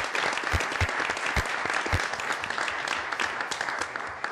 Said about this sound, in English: I would like to give our Parks Department a round of applause tonight.